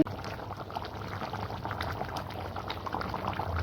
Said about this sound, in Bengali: একটুখানি কাশ্মীর লঙ্কার গুঁড়ো জল দিয়ে গুলে দিয়ে দিলাম